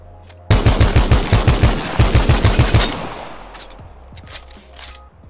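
A scout rifle fires in Apex Legends, a fast, regular burst of about twenty loud shots over a couple of seconds with a brief pause midway, then fading echoes and faint distant game sounds.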